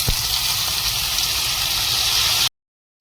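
Tap water gushes steadily over onions and green chilies being washed in a home kitchen, a close, continuous splashing flow that stops abruptly, leaving silence.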